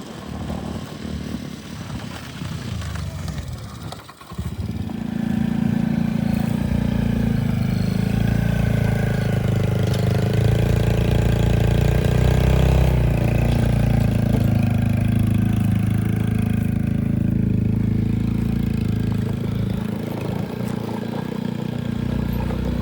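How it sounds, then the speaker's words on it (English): A four-wheeler ATV engine idles low and steady, then after a brief dip runs at a fuller, even rumble for about twenty seconds, close and fairly loud with no talking. "All right, Ransom, that's not too much weight for your four-wheeler, is it"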